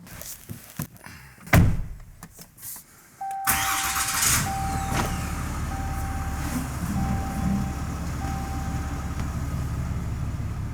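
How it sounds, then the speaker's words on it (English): A pickup truck is started with a thunk and a short crank, then its engine runs steadily at a medium pitch close by, idling and pulling away in a garage workshop with no talk. "Let me get my truck out of the way."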